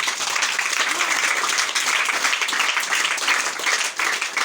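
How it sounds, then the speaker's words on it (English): Dense, steady applause from an audience fills the whole stretch, many hands clapping at once with no single beat standing out. "Please clap for your proprietor."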